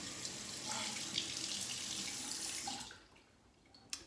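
Tap water runs steadily into a sink, rinsing shaving soap lather from a bowl and face, a close continuous splashing rush that stops abruptly near the end.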